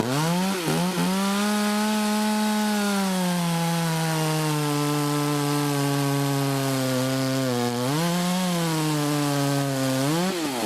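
A KM Grand saw cuts through wood with a loud, close, continuous engine whine. The pitch sags as the blade bites, then rises again near the end.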